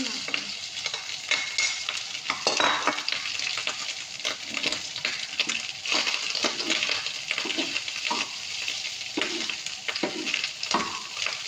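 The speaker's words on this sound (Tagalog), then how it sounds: "Haluin natin." Garlic-heavy fried rice is stirred in a hot pan, giving a soft, steady sizzle with rhythmic scraping and shuffling of the rice, fairly quiet and close, with no speech.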